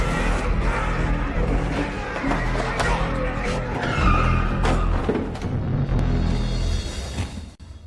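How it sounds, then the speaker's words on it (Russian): A car smashes through a hotel's front entrance with skidding tires and heavy crunching impacts, a dense, loud burst of noise that carries shouting voices and commotion before cutting off sharply. "Он врезается на своей машине в парадный вход"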